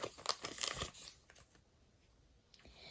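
A plastic collectible packet being handled and crinkled, with a burst of sharp crackling rustles in the first second or so, then quieter scattered crinkles and a final rustle near the end, close and fairly soft.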